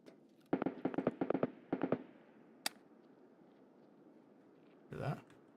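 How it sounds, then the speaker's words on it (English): A grenade explosion in a shooter video game, in an area with scavs nearby, heard as a quick cluster of sharp cracking pops followed by a single snap and then a muffled, distant blast near the end. "That's probably the scav that threw the grenade."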